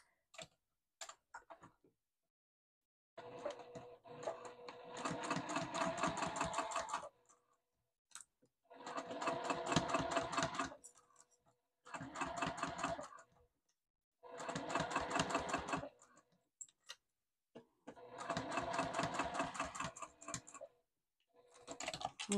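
A home sewing machine basting down the lining of a small wristlet runs in five or six rapid rattling bursts of a few seconds each, separated by quiet pauses with faint handling clicks, close and clear, no voices.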